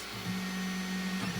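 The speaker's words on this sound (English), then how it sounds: "This is the latest print I'm working on. It's on the printer right now." A Snapmaker 3D printer prints a SpaceX spaceship part, giving a steady motor hum with a low whirring tone that shifts slightly as the print head moves, close up with no talking.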